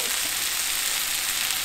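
Garlic butter sizzles hard in a hot pan for hibachi-style cooking, a dense, even hiss close up with no voices.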